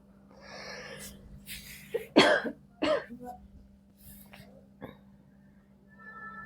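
A few harsh coughs and throat-clearing sounds close by, separated by pauses, over a faint steady hum.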